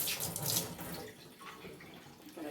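A tap runs in a sink while mung bean sprouts are rinsed, giving a close, continuous gush and splash of water that eases slightly toward the end.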